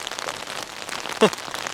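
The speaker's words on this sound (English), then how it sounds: "the sound of that rain just hitting this tent" Rain patters steadily on a tent during an overnight stay in a mountain forest, a dense close hiss of drops with a brief louder thump partway through.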